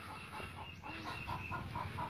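A chicken clucks in a steady run of short, repeated calls, close by and fairly quiet, with no talking over it.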